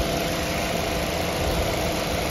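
A 2022 Maruti Suzuki Brezza with a 1.5 litre petrol engine idles steadily, a smooth, even mechanical hum heard close up with no voices.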